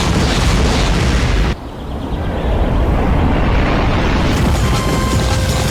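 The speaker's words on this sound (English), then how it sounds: "Nuclear artillery. Or is that... No, that's napalm." Nuclear artillery or napalm strikes in Factorio Space Exploration land as a loud, sustained roaring blast, briefly cutting off before swelling into a long rumbling wash of explosions with no speech.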